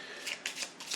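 A deck of cards from the Mansions of Madness board game being shuffled, a close, crisp riffling flutter in several quick bursts over about a second.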